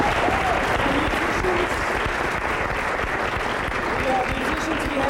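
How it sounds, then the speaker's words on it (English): An audience applauds a pianist at a flamenca fiesta community show: a steady, dense wash of clapping that holds at full strength from start to finish, with crowd voices murmuring beneath it. "How about another round of applause for Joy Goebel,"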